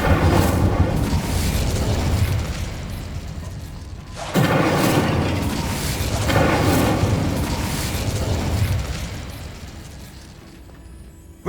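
An Incendio fire spell is cast in Hogwarts Legacy, a dense roaring burst of flame and booming impacts that cuts off abruptly, then swells again in a second long rumbling blast before fading away.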